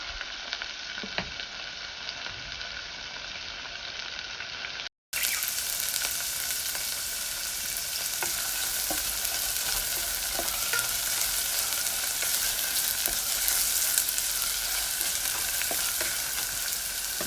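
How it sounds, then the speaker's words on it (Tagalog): Ingredients for pork sinigang sizzle steadily in a frying pan with intermittent scraping of a stirring utensil, a brief dropout near the start, then continuous close, moderately loud frying with no talk. "haluin lang natin ito"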